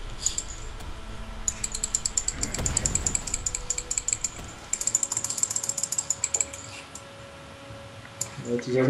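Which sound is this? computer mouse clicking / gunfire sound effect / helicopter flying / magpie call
computer mouse clicking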